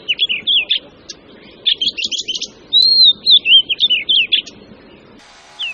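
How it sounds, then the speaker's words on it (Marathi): An Oriental magpie-robin (dayal) sings near a house in a run of loud, clear, varied whistled phrases and rapid chirps, with short pauses and a steady low background hum that drops away near the end. "तर सगळ्यात पहिला गाणारा पक्षी आहे तो दयाळ."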